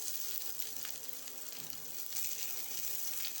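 Raw onion dropped onto whole cumin seeds in hot oil, giving a steady, fairly quiet sizzle that runs evenly throughout, with no voices.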